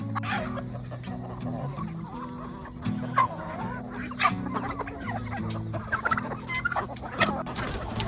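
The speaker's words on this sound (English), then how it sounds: "especially when they all get fighting and jumping on top of them" A flock of free-range chickens clucking and squabbling at close range during feeding, a dense, continuous chatter of overlapping calls.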